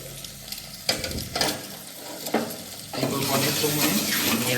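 Water splashes and gushes into a pan in a few bursts, growing into a steady noisy pour toward the end, with faint sizzling underneath.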